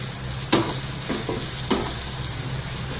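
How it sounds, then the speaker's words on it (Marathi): Dried fish frying in a small amount of oil, with a steady close sizzle broken by three sharp stirring knocks against the pan. "आता आपण टाकायला आहे थोडं तेल थोडंसं तेल टाकलं"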